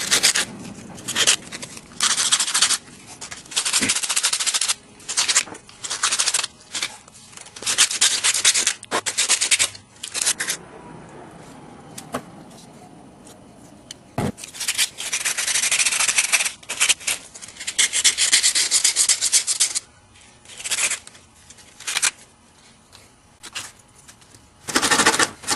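Sandpaper rubbing along a wooden crankbait lure body in steady back-and-forth strokes, loud and close, with brief pauses between bursts of sanding and no talking.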